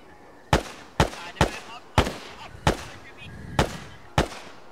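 Arma 3 gunfire during a night infantry mission: eight sharp, loud single shots spaced roughly half a second apart, each with a short echoing tail, over faint background noise.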